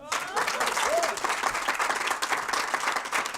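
Studio audience applause on a Cameroonian talk show, continuous close clapping filling the whole stretch at moderate level, with a faint voice briefly over it.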